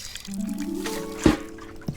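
Water poured onto soil in a planted pot in the video game Botany Manor, a brief close gurgling trickle ending in a soft splash and drip.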